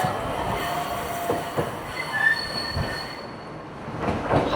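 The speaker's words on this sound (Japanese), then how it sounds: "列車が帰っていきますね。" A tram pulls away at Dogo Onsen, Ehime, Japan, with a high, thin wheel squeal and rumbling rail noise that carries on steadily, no voices.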